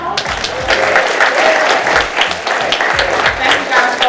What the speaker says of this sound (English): give our wonderful communications department a round of applause